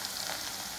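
Garlic dropped into hot oil for mango pickle gives a dense, even, close sizzle that stays loud and steady throughout, with no talking.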